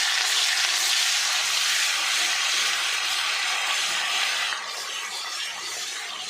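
Ginger garlic paste dropped into hot oil already crackling with cumin and mustard seeds, giving a steady loud broadband sizzle that eases slightly toward the end, with no voices.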